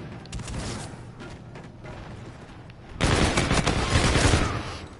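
Rapid gunfire from Call of Duty gameplay crackles continuously, growing louder and denser partway through as overlapping shots merge into a sustained burst.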